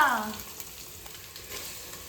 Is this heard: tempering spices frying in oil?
yes